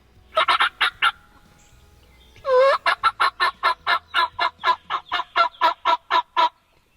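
A wild turkey gobbles loudly during a Kentucky hunt, giving a rattling gobble amid a long run of rapid, evenly spaced clucking calls close by.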